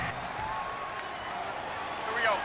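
Stadium crowd at an NFL football game between the Buccaneers and Falcons roars as a steady, broad wash of noise, with a few whistles and shouts rising near the end.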